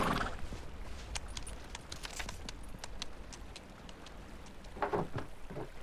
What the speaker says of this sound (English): the heavy storm is hard on the horse and me